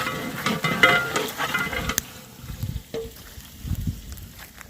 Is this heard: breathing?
no